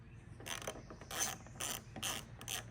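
A socket wrench loosens the bolts holding a windscreen on a Honda Transalp motorcycle, producing five quick ratcheting bursts of rapid clicks separated by short pauses, close and fairly quiet.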